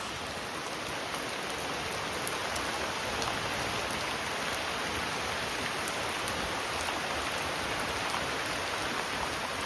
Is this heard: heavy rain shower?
yes